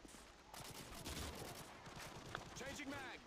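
Famas rifle gunfire in Modern Warfare 2, rapid bursts of shots running steadily through the moment with game sounds and other noise mixed in at moderate level.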